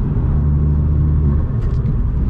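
A Vauxhall Astra VXR's engine pulls hard in third gear, a steady loud low rumble and drone from inside the car with no break.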